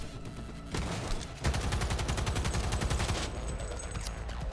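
A light machine gun firing in Cyberpunk 2077, long sustained bursts of rapid, loud, close automatic shots with brief breaks between them.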